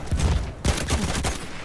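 Battlefield 1 gunfire crackles through a Conquest match, a few loud close shots and a short burst of rapid fire followed by echoing reports.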